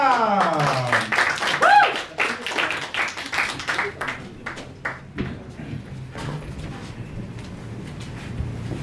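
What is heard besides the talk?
audience clapping for comedian Wahyu Abdul at open mic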